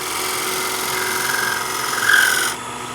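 A shear scrape slicing across wood end grain: a steady rasping scrape runs throughout, rising slightly in loudness before it stops near the end.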